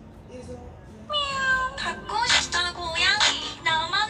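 Cat meowing indoors: a burst of several short, high, wavering meows in quick succession, fairly close and loud over light background noise.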